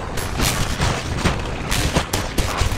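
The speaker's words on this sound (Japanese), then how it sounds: "すげえ、銃声がもはやバルカン砲になってる。" Rapid gunfire in the mobile shooter game Call of Duty Mobile, a loud continuous stream of heavy automatic shots with sharp repeated bursts running throughout.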